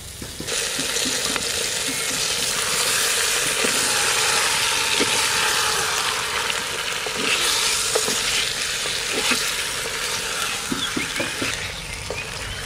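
Duck meat cooking in a new clay pot, stirred with a steady scraping over a continuous loud sizzle and bubbling that runs unbroken throughout.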